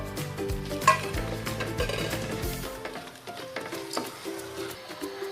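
A spoon stirring fried onions with dried lemon, pepper, Maggi cubes and a bay leaf in a pot for chicken majboos, with soft scraping clinks and a light sizzle, close, fading quieter toward the end.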